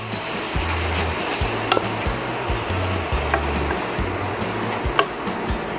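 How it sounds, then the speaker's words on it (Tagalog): Ginger is stirred in a hot sizzling pan for pork and tuna sisig, a steady fry hiss broken by repeated scraping strokes and light clicks of a utensil against the pan. "Lagay na rin ang ating ginger. Yan, haluin lang natin siya."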